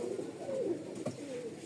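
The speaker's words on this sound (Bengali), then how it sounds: "মন জুড়ানো একটা ডাক কবুতরের" A Rajshahi Giribaj pigeon cooing, soft low-pitched warbling coos in a short phrase, fairly faint against a steady background hiss, with no talking.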